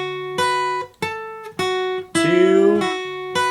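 A guitar plays a lick scale exercise slowly, with single sustained notes picked one at a time at a steady pace, including a brief bending or sliding phrase, close and clear with no talking.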